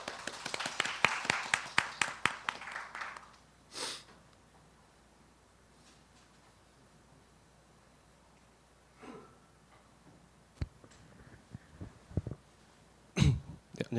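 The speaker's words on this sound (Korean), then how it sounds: "큰 박수로 맞이해 주시기 바랍니다." A small audience at a university program showcase claps for a student presenter in a brief run of close, distinct claps lasting a few seconds, then the room falls quiet apart from scattered coughs and taps.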